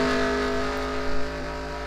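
Race car number 25 drones past on a short oval track during a qualifier, its engine a steady, fairly loud roar that swells slightly midway.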